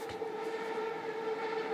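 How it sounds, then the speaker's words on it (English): A BART commuter train passes behind a backyard, a steady rumbling pass with a sustained tonal whine from the rails, moderately loud and continuous throughout, no talk. "BART train going by."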